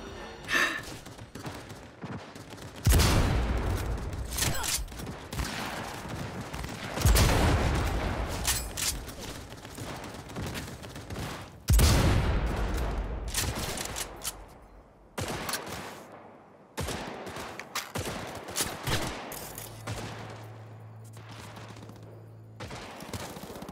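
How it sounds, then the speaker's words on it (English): Gunfire from shooting enemies in the video game Cyberpunk 2077: several loud bursts of shots a few seconds apart, each with a booming tail, then lighter scattered shots and a low hum. There is almost no talk. "Alright, I'll just shoot them from here."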